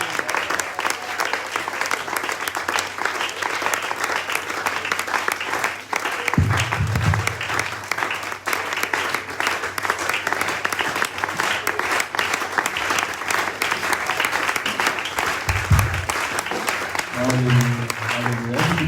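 A church congregation applauding to acclaim the Lord: loud, sustained clapping from a large crowd throughout, with voices and shouts mixed in and a few musical notes near the end.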